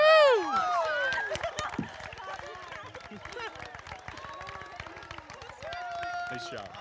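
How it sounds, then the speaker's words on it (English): Commencement audience applauding the Class of 2022 graduates, a broad sustained patter of clapping with a few cheers and scattered voices, moderately distant. "Please give them a round of applause,"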